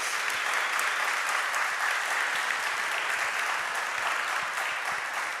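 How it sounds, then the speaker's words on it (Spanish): A seated audience at a comics talk claps steadily and evenly, a continuous mid-level patter of many hands with no voices standing out. "Un aplauso"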